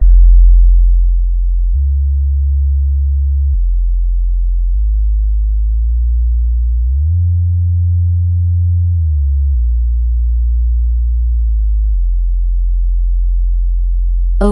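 Low, pure sine test tones play through a subwoofer, stepping between a few steady bass pitches and holding each one for a couple of seconds. No voices are heard.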